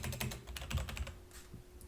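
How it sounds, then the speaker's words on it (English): Keystrokes on a computer keyboard entering a discount code into laundromat wash-and-fold software, a quick close burst of clicks that thins out toward the end, with no talking. "So we'll type in Tuesday special."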